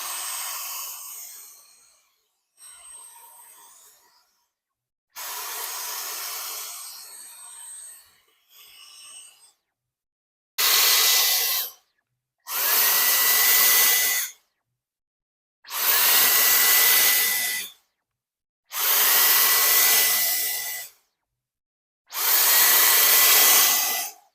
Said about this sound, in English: I'll be hoovering, just giving that a little clean as well, just to get rid of the dust so that it doesn't damage the new blower